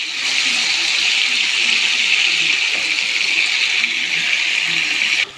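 Chicken gizzards sautéing in a pan give a steady, loud sizzling hiss that holds evenly throughout and cuts off abruptly at the end.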